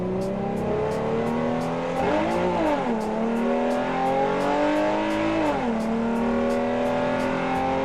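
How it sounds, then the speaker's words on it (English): Hyundai Genesis Coupe sports car, rear-wheel drive with a manual and 275 horsepower, its engine droning steadily and loudly with two clear rises and falls in pitch as it revs while driving. "We're talking about the Hyundai Genesis Coupe."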